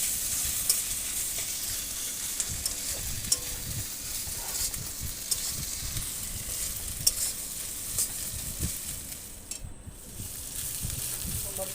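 Onions sizzling in hot oil with ginger-garlic paste for a fish curry, stirred with a spoon: a constant hissing fry with scattered scraping clicks and taps of the utensil, close and moderately loud.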